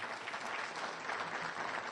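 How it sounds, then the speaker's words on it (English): Applause from an audience honoring Lieutenant Governor Anthony Brown at a public crime-statistics event, a steady dense wash of many hands clapping at once, loud and sustained without any voices over it. "Can we give him a round of applause for"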